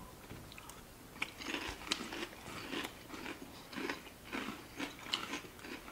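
Repeated crunching bites of Drumstick cereal, a vanilla ice cream, cone and chocolate flavoured breakfast cereal, in a steady chewing rhythm with sharp crisp accents, close and moderately quiet with no talk.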